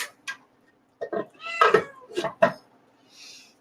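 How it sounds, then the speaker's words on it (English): A cat meows several times in short bursts with pauses between, close and fairly clear in a quiet room. "Meow, meow, meow."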